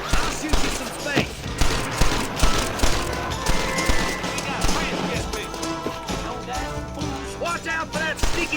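Gunfire from the Red Dead Redemption video game, a dense run of rapid shots and impacts layered over music and game noise, with voices talking throughout.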